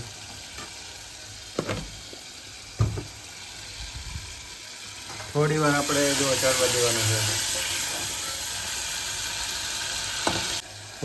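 Spices sizzle in hot oil for a tempering for Rajasthani kachri sabzi, a sudden loud frying hiss that bursts in midway and settles, with a few utensil taps and a person talking over it.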